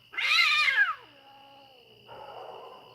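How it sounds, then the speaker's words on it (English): Cats in heat caterwaul on a homestead, a loud drawn-out yowl falling in pitch followed by a quieter second wail, close by with a steady background hum. "Of course, I have cats in heat."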